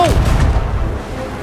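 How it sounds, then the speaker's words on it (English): A ship's cannon fires a cannonball in the video game Sea of Thieves, a single loud, deep boom with a rumbling tail that fades over about a second. "Okay, I'm loading the cannonball. Use cannon. Fire the hole!"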